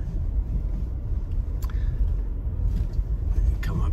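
Toyota RAV4 Hybrid climbing a steep, muddy hill, a low, steady rumble of engine and road noise from inside the cabin, with faint knocks and thumps over the rough ground.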